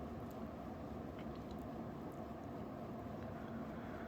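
An American Industries Hugger six-blade ceiling fan with wide blades runs on high speed, giving a steady, faint whooshing rush of air with no talking.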